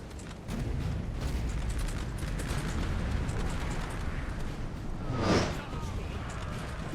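Artillery fire in the video game Napoleon: Total War during a Waterloo battle: dense rumbling cannon blasts and battle noise, continuous and loud, with a brief whistling swell near the end, no clear talk.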